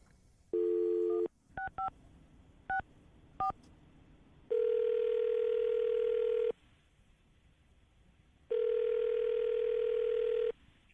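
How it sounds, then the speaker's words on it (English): A landline telephone gives short bursts of touch-tone dialing beeps, then a ringback tone in two long, steady buzzes separated by silence, heard clearly and alone. "I'm going to dial the phone number, see if we can get her on the phone"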